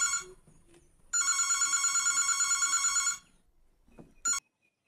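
A telephone bell rings loud and close in one long electronic burst of about two seconds, followed by a short final ring after a pause, against an otherwise quiet room with no speech.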